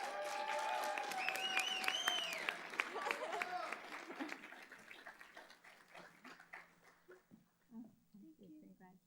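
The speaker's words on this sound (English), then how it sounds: "Let's give him another round of applause." Applause at a fall nurses pinning ceremony starts strong under a speaking voice, then thins and fades to scattered claps toward the end.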